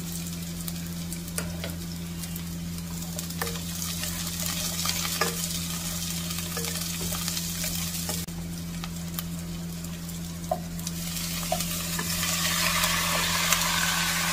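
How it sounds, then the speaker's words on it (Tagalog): Onion and garlic fry in a pan after ginger, a steady bright sizzle running throughout with occasional clicks and scrapes of a utensil stirring, close and continuous with no talk. "Isunod na natin ang ating sibuyas at ang bawang."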